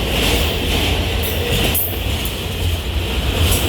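A Norfolk Southern freight train hauling linked auto racks rolls past close by, a steady loud roar with rumbling wheels and rail noise.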